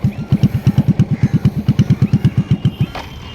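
A motorcycle engine pulses steadily and loudly at close range during a riding lesson, with the throttle applied and the clutch half pressed, giving about twenty even, rapid thumps before fading out at the end.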